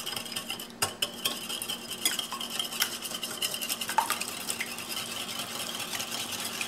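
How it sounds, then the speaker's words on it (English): Two eggs whisked in a bowl, a quiet run of rapid light clinks and scrapes from the utensil against the bowl, irregular and close. "we're going to need to go ahead and whisk them"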